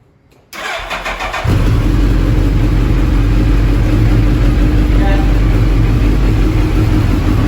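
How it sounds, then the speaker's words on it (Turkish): A Suzuki Hayabusa GSX-R 1300 motorcycle cranks briefly, then catches and settles into a loud, steady idle that runs close and continuous to the end. "Önce bir motoru çalıştıralım."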